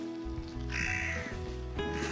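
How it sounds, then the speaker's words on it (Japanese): A crow caws a few times at moderate distance on a rainy morning at an ostrich farm, harsh calls rising over a steady low background hum. "カラスが鳴いてます。"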